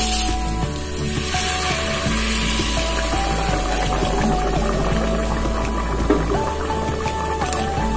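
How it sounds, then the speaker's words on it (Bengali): Hot water poured into a pan of frying katla fish curry, setting off a loud, continuous sizzle with pouring and bubbling heard close up and no talking. "এবার মা গরম জল দিয়ে দিচ্ছে"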